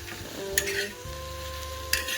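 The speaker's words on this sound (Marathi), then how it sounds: "तर चला आज मी सगळं भाजून घेते" Grated coconut, coriander seeds and spices dry roasting in a pan for misal, with a steady soft crackle and two short scraping stirs, close and moderately quiet.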